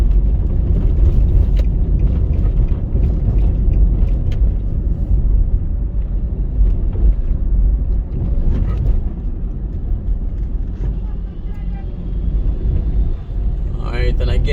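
A car drives through the city streets of Kingston, its cabin filled with a steady, loud low-frequency road and engine rumble that continues without a break.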